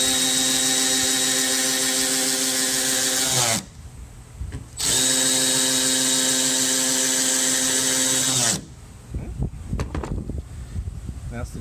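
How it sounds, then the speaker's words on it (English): A Milwaukee high-speed 1/4 inch Fuel cordless ratchet runs in two long whirring bursts with a short pause between, a loud, close, steady high-pitched motor whine, followed by faint handling noise. "This is the original non-fuel ratchet versus the new high-speed fuel ratchet."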